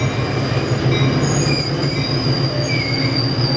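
A Coaster commuter train passes close by with its cab car leading, wheels squealing and a loud steady rumble of rail cars throughout.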